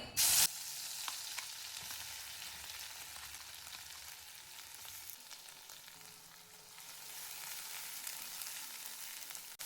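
Ground masala paste hits hot oil in a kadhai for dubuk vadi, opening with a brief loud burst, then settling into a continuous moderate sizzle with light stirring scrapes.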